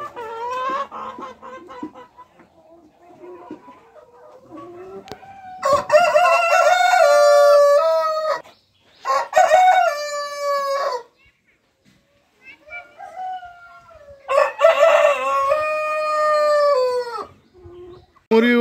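Crowing and clucking from fancy chickens on a farm in Rajshahi, several loud harmonic crows rising in long bursts with gaps between, backed by softer clucks and a person talking.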